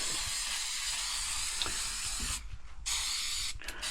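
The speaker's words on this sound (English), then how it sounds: "So I'm going to finish spraying this stuff on." A rust treatment aerosol is sprayed onto the metal of a truck cab, a loud, steady close hiss that cuts out briefly twice before resuming.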